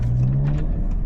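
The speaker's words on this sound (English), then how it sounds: "you can hear those burbles right there" An 11th-generation Honda Civic Si with an aftermarket downpipe and tune idles in first gear with a low, steady rumble and uneven exhaust burbles popping through, close and fairly loud.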